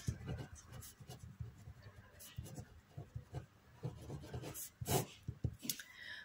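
Faint, uneven scratching and tapping strokes of writing on a board during a lecture, in short bursts with brief pauses, close but quiet.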